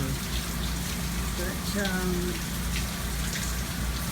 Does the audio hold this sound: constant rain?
yes